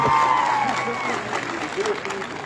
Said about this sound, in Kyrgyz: Бир кол чабып коюңуздар